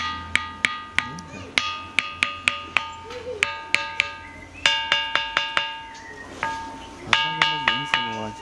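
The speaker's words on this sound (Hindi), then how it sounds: "इसमें इस पत्थर में से हर जगह से अलग अलग प्रकार की आवाजें निकल रहा है" A ringing stone at Mainpat in Surguja, Ambikapur, is struck repeatedly, giving sharp metallic clangs like a pot or bell, each with a ringing decay, in an irregular series outdoors with faint voices underneath.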